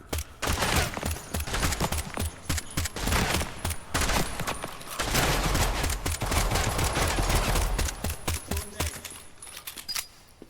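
Rapid gunfire rattles almost without pause through a long-range pistol fight in a video game, loud bursts of overlapping shots with only brief gaps.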